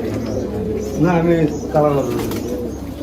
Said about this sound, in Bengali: এখানে অনেক কবুতর আছে